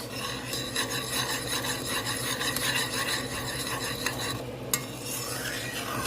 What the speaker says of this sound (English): I'm going to stir it all in. Add it right in.